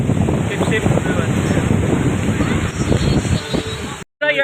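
Strong wind batters the microphone at the seaside as the weather turns rainy, causing loud gusty buffeting and rumble. Voices can be heard under the wind before the sound cuts out abruptly near the end.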